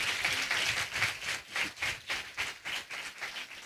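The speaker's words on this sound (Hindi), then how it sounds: "ताली बजाकर प्रभु को धन्यवाद दीजिए।" A church congregation claps together in thanksgiving during a Hindi sermon, a steady run of brisk, fairly even claps filling the room with no voices over them.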